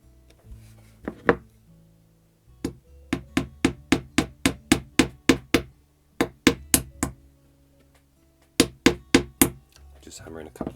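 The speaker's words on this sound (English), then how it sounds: "just hammer in a couple of track pins." A small hammer taps sharply in quick, evenly spaced bursts, driving track pins into model railway track, pausing between runs, with a few soft knocks and brief talk at the start.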